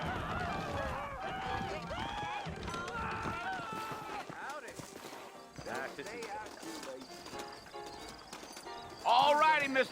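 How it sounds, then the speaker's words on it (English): Saddled horses clip-clop steadily in the Western video game Red Dead Redemption, the hoofbeats running under continuous character dialogue and other game sounds, with a louder burst near the end. "I got the horses saddled up and ready out front."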